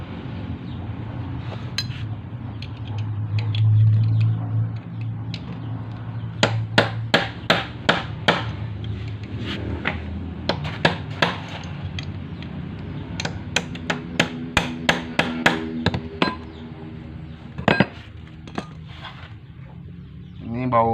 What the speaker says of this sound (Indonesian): kita menggunakan pahat teman-teman. Kita pahat dan kita palu